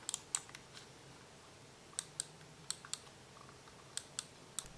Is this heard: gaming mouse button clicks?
yes